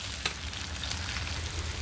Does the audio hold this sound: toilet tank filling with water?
no